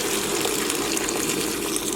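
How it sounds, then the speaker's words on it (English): Boiling hot water is poured over meat in a pot, a steady, loud gushing splash that runs unbroken throughout. "I'm gonna now add some boiling hot water to this,"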